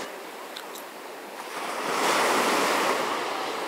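Moderate waves wash steadily onto a small, sheltered Atlantic bay beach near Franca in the Azores, a continuous rushing surf that swells slightly louder midway, with some wind noise and no voices.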